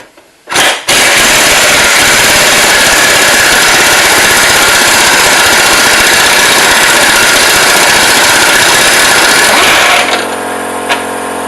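An old air compressor kicks on after a brief knock and runs steadily for about nine seconds, a loud continuous mechanical roar with hum, then cuts off to quieter background.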